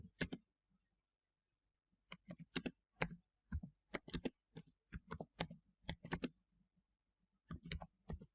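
Typing a message on a computer keyboard: crisp, close key clicks in quick clusters separated by short pauses, quiet and alone with no talking.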